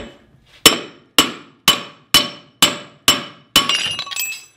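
Seven sharp, loud metal hammer strikes ring out at a steady pace, driving a stuck bolt out on a Jeep Comanche, ending in a brief clatter after the last blow.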